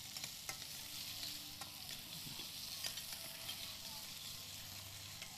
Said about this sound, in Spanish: cuando el ajo empieza a bailar, le añadimos la cebolla. La rehogamos un poco.